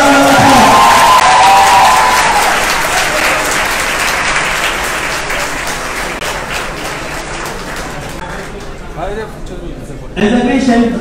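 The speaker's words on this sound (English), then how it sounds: "Can we give another round of applause?" Audience at a festival conversation event applauding, a dense wash of clapping that slowly thins and fades, with a few voices emerging as it dies down.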